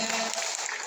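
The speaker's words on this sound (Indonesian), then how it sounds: "Kita kasih aplaus untuk seluruh kerja-kerja" Audience applause at the opening of a national congress, a dense, steady wash of clapping filling the whole brief moment.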